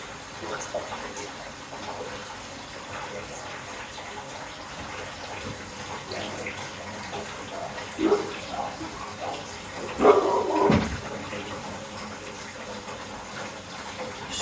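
Tap running into a bathtub, a steady hiss and rush of water that holds throughout, with a few louder splashing gushes near the middle and later on, close by in a bathroom with no speech.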